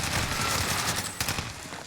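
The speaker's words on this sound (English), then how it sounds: "we have the rooftop behind us shooting at us" Close, rapid gunfire in the Warzone video game from enemies shooting off a rooftop: a dense rattle of overlapping shots that thins out toward the end.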